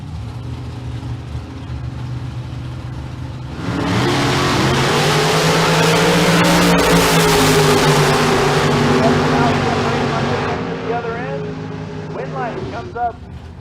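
A Porsche and a drop-top Camaro launch down Famoso Dragstrip in a bracket race, engines roaring loud and close for several seconds before fading as they pull away, with announcer commentary over the top.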